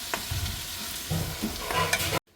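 Beef roasting in a pan while being stirred, giving a close, steady sizzle with scraping stir strokes for a couple of seconds before it cuts off abruptly.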